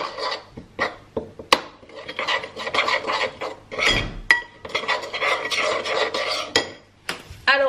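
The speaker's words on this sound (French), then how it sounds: "Et donc on va venir mélanger la marinade." A spoon stirs a lemon and flat-leaf parsley marinade in a bowl, making repeated scraping, rasping strokes in short irregular bursts, close and clear without speech.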